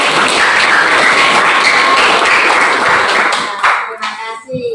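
Classroom applause after a Quran recitation, brisk clapping by a small group of hands that fades and thins toward the end.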